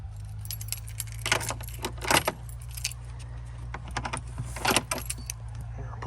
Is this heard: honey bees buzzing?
no